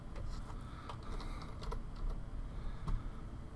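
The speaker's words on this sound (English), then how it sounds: "Typing slowly." Slow typing on a computer keyboard: scattered, unhurried key clicks at an uneven pace, quiet and close, over a low background hum.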